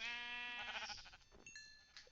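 Sheep bleating in the Minecraft video game, one drawn-out bleat followed by a shorter one, fairly clear and close, with no talking.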